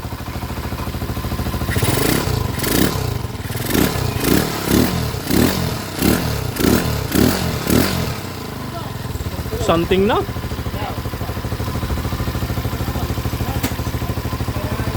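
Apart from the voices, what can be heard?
200cc motorcycle engine revving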